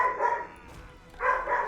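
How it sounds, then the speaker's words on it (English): Dog barking in a room, two bursts of barks separated by a short lull, fairly loud and close, with no talk over it. "Sorry guys about the barking."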